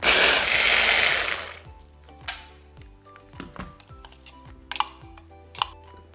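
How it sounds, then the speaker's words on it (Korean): A blender buzzes loudly through chopped onion for about a second and a half, then cuts out, leaving scattered clicks and light clattering. "양파는 토막을 내서 갈아보도록 하겠습니다"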